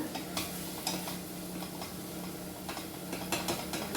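Aloo kudina bath ingredients roasting and being stirred in a pan over a medium flame, with soft sizzling under repeated scraping and tapping of a spoon against the pan, fairly quiet.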